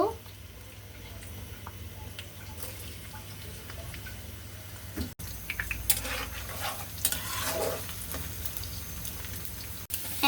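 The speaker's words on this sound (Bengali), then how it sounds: "এখন তেল দিয়ে পেঁয়াজগুলোকে ভেজে নিব" Steady sizzling and crackling of onions frying in oil, close by, with occasional clinks and scraping from stirring.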